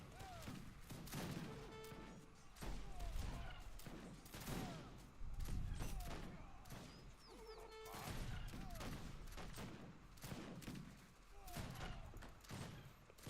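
Massed musket and unit gunfire crackles across a battle in the strategy game Wars of Liberty, repeated rolling volleys with thuds and impacts, layered under quiet commentary.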